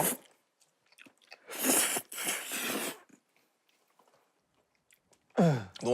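Chewing and biting sounds of someone eating a meal, close and intermittent, with short crunchy bursts between quieter pauses and a louder burst at the end.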